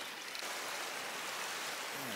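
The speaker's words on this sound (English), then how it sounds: "There's the Atlantic Ocean." Atlantic Ocean surf at Hog Inlet beach near Cherry Grove, North Myrtle Beach, a continuous broad hiss of breaking and washing waves, steady and fairly close.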